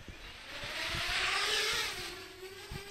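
Parrot Bebop drone lifting off outdoors in a light wind, its rotors rising into a buzzing whir that swells and then eases, heard close with faint knocks around it.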